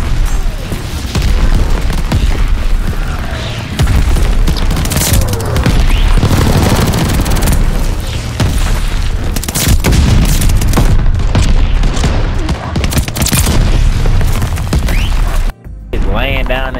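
Heavy gunfire in a first-person shooter game, repeated loud booming blasts and bursts close up, with people talking over much of the action.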